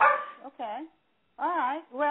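A dog barks a few times in the background, short yappy bursts interleaved with a person talking close by.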